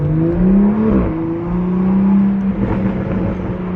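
A 2021 Toyota Supra with a newly installed aftermarket downpipe exhaust revs loudly nearby. The engine tone rises and falls before settling into a rumbling idle with crackling exhaust burbles toward the end.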